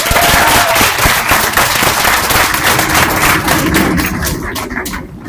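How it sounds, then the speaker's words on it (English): At a 2021 high school graduation ceremony, a large audience applauds teachers and administrators with loud, dense clapping that rings out close and sustained before thinning and fading toward the end. "let's give them a big round of applause"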